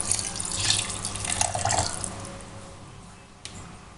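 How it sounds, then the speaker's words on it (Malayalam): Coconut water poured into Kerala palappam (appam) batter, a splashing trickle that is strongest in the first two seconds, then fades to faint drips. "ഞാനിപ്പം തേങ്ങാവെള്ളം ആണ് ചേർക്കുന്നത്."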